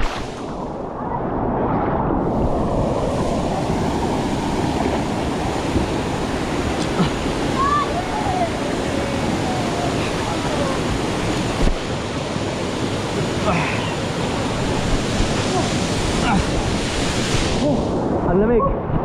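Roaring water of Aurora Falls in Bulawan, a loud, steady broadband rush that fills the whole stretch with no letup, mixed with some wind buffeting on the microphone.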